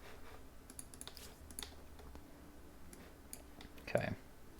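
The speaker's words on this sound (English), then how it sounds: "Just clicking through the menus." Quiet computer mouse and keyboard clicks while navigating menus in a strategy game, scattered light taps at irregular intervals over low room hum, with one slightly louder click near the end.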